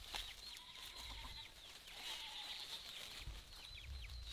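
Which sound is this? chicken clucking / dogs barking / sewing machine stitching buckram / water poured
chicken clucking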